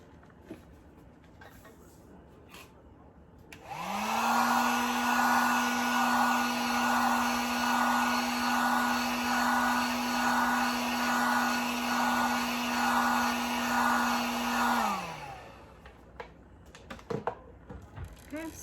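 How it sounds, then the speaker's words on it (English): A heat gun blows steadily over a glitter tumbler, a loud, even droning roar that switches on, holds for about eleven seconds and then winds down, with quiet handling noises before and after. "I'm gonna grab my heat gun"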